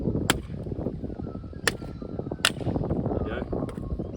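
Khukuri blade chopping into wood outdoors, several sharp isolated thwacks spaced a second or so apart over low rumbling background, one strike glancing off at a shallow angle.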